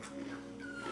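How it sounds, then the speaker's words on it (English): A puppy whimpers softly, a thin high whine rising faintly over a quiet background hum. "You might hear a puppy crying."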